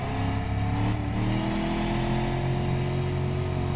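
Car engine revving steadily in a driving video game, a continuous mid-pitched whirring drone that holds at a constant loud level with no voices.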